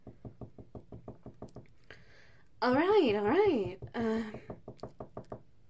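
Door knocking at a home late at night, a steady run of evenly spaced raps before and after a stretch of close, soft speech.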